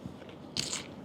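A single crisp bite into a raw cucumber, one short crunch close to the microphone over quiet room noise.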